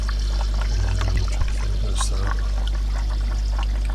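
Water trickles and splashes steadily into an unheated fish fry tank on a breeding rack, a continuous gentle pour over a low constant hum from equipment.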